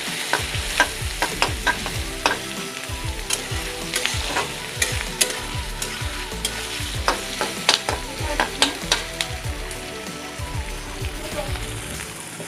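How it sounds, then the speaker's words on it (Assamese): Onions frying over a high flame in a pan while being cooked for a paneer and brain curry, a steady loud sizzle with frequent sharp scraping stirs of a spoon, no voices. "পিঁয়াজখিনি মই হাই ফ্লেমতে এতিয়া ভাজি আছোঁ"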